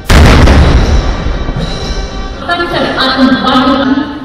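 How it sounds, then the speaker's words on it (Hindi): An artillery gun booms once as part of a 21-gun salute at India's 73rd Republic Day ceremony, loud and heavy, and its rumble fades under a spoken news commentary. "सेना ने अपने सुप्रीम कमांडर को 21 तोपों की सलामी दी।"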